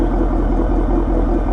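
Ford S550 Mustang GT V8 with a Corsa Extreme catback exhaust and X-pipe, a steady, loud, deep rumbling drone at idle with no voices.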